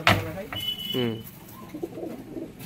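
Pigeons kept at a home loft of high-flying Giribaz pigeons coo softly in a mix of bird calls and short whistly notes, with people talking nearby over a steady background hum.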